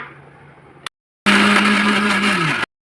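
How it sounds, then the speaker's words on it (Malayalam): A blender whirs loudly for about a second and a half grinding tender coconut water with cardamom, a steady motor grind with a slight pitch drop as it slows, after a quieter hum and brief silence. "പിന്നെ ഇത് അരച്ചെടുക്കുക"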